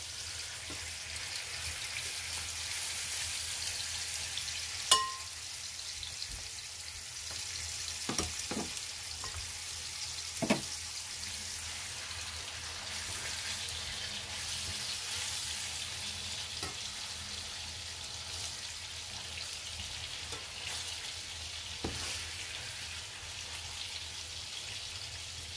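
Veal cutlets fry in hot oil in a pan, giving a continuous bright sizzle. Scattered sharp pops and a few clinks sound throughout, with no voices.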